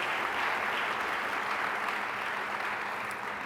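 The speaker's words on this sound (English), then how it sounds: "Please give Glenn a round of applause." A short burst of steady, dense audience applause at a scholarship awards celebration, even and sustained throughout with no voices.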